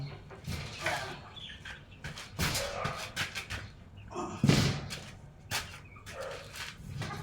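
Backyard chickens and chicks clucking and peeping close by in irregular bursts, with a dog barking and other birds calling around them.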